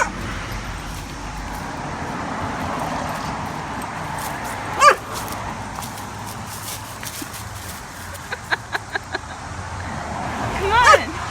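A frightened dog near a fence with pants hanging on it barks and whimpers outdoors, a couple of sharp yelps and a short run of quick barks against steady background noise, with a person speaking at times.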